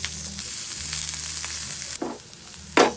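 Garlic and onion fry in hot oil, a steady loud close sizzle with a couple of brief stirring scrapes near the end.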